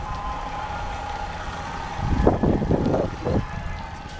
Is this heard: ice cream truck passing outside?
yes